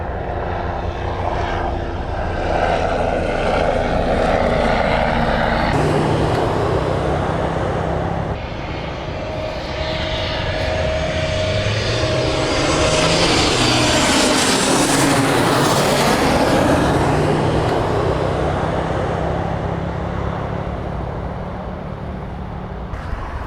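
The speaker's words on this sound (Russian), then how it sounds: "Вот здесь летают и садятся самолеты." Airplanes at a Buenos Aires runway, a loud roaring jet engine that swells and sweeps past overhead with shifting pitch, mixed with steady outdoor rumble and no talking.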